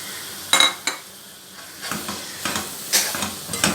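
Tomatoes and green chillies sizzle as they hit fried masala for qeema karela, a soft hiss broken by a few sharp clinks and scrapes of stirring against the pan.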